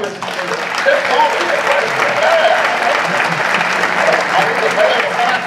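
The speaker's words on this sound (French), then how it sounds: "Henri Bourquin, mesdames, messieurs, vous pouvez applaudir" Steady, loud applause from a theatre audience at a French comedy performance, dense clapping sustained throughout with faint crowd murmur.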